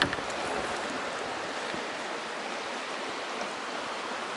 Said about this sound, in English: Small river.